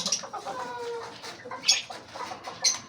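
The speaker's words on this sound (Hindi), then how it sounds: "अब मेरे ख्याल से ये असील का नर बाहर जाना चाह रहा है" Aseel rooster clucking and calling in short bursts, with brief higher squawks and a few louder peaks, close by and alone without talk.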